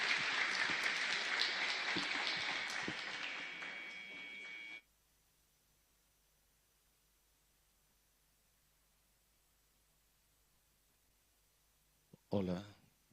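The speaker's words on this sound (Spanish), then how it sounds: "Recibimos con fuerte aplauso a nuestro querido hermano José Luis Duarte." Strong applause fills a church leaders' congress hall in welcome of a speaker. It is loud and sustained, then cuts off abruptly into near silence before a brief bump of sound at the end.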